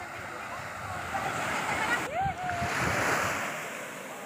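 Surf rolls and washes steadily onto White Beach in Torrijos, a broad, continuous roar of waves with wind buffeting the microphone, fairly loud and close throughout.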